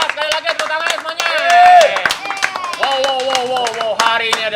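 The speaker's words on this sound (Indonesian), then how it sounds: "Kurang keras, sekali lagi tepuk tangan semuanya." A cafe crowd at Sinkron Cafe in Ciputat claps again, sharp close claps rattling steadily under loud overlapping voices and cheering.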